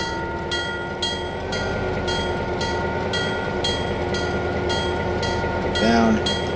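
A model train locomotive on a Pennsylvania-themed layout running with the throttle raised, a steady close mechanical hum with faint rhythmic clicks and a brief whistle-like tone near the end, with no talk.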